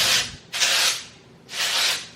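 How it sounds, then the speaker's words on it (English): Three quick bursts of hair texture spray misted onto the roots of medium-length hair, each a close, airy hiss separated by short pauses, with no talking. "give it a quick spritz"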